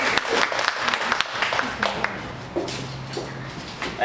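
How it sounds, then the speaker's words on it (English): A crowd applauds at a Valdosta Main Street small-business announcement event, with irregular, close clapping that thins out toward the end as a voice starts to speak. "A big round of applause for Daniel Bayman."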